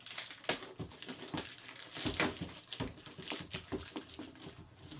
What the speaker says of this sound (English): I will take the plastic off.